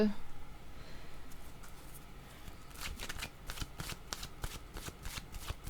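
Tarot cards for a reading are riffled and shuffled in quick crisp bursts, then one is drawn, close and fairly quiet, with someone speaking over parts of it.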